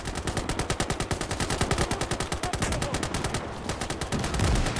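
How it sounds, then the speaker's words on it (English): Finnish machine guns in the video game Gates of Hell rattle out rapid, evenly spaced bursts of automatic fire, loud and continuous for several seconds with a brief pause near the end. "they are being engaged by the Finnish machine guns"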